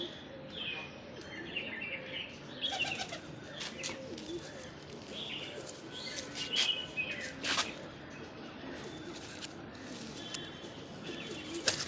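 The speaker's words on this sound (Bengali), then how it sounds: "বহুত ছটপটে পায়রা" Several lively Punjabi Malbai pigeons, white-eyed and dark-eyed birds handled for sale, with soft cooing, chirps and intermittent wing flaps mixed into a busy outdoor background, no talking.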